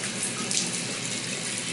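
A tap runs steadily into a sink as a face is wetted after a traditional shave, giving a loud, even hiss and splash of water with no talking.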